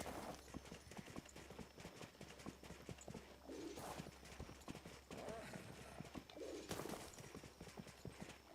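Rhythmic hoof clip-clops repeat steadily at a trot, with occasional horse whinnies rising over the patter, from a horse ridden in the video game Disney Dreamlight Valley.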